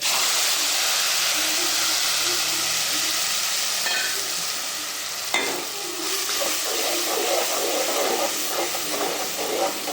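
Masala tipped into hot oil with garlic already fried red, hissing in a steady close sizzle, with scraping and clattering stirring strokes that grow busier midway.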